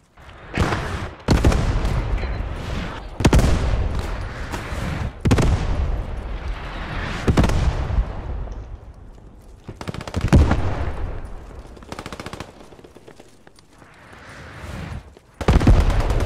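Loud, close gunfire in the multiplayer World War II shooter Post Scriptum during a large clan match: repeated bursts of automatic fire and single heavy shots with echoing tails, separated by short pauses, no speech.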